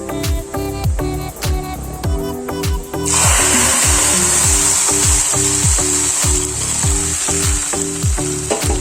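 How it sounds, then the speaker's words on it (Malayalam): Dried red chillies and curry leaves frying in oil for a sambar tempering, giving a loud, dense crackling sizzle that swells after a few seconds, with regular rhythmic mechanical pulses running underneath throughout. "വറ്റൽമുളക്, കറിവേപ്പിലയും കൂടെ ഇട്ട് കൊടുക്കാം. നല്ലതുപോലെ ഒന്ന് മൂപ്പിച്ചിട്ട് നമ്മൾ സാമ്പാറിലേക്ക് ഒഴിച്ചു."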